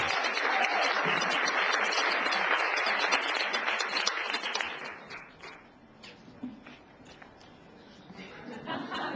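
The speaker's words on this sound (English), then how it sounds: "can everyone please welcome with a nice warm round of applause, Peter Spencer" Warm applause from a sizable crowd, dense clapping that fills the first half, then tapers off into scattered claps and murmuring.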